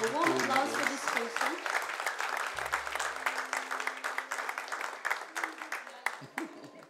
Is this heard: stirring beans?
no